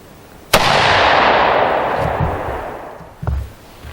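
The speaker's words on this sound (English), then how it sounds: "Okay, time for a couple of control shots. First up, of course, is bare muzzle." A single loud, close AR-15 rifle shot fired with a bare muzzle cracks out and rolls into a long fading echo, followed by a faint second thump near the end.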